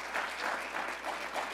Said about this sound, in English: let's just give a round of applause to Priota Belpri